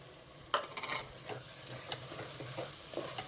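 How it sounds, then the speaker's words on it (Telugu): Raw mango pieces frying in spiced masala for a fish curry, with steady sizzling and several sharp scraping stirs from a utensil in the pan, close and fairly loud, no talking. "మసాలా కూడా చక్కగా వేగిపోయిందండి ముందుగా కట్ చేసి పెట్టుకున్న మామిడికాయ ముక్కలు వేసేసా"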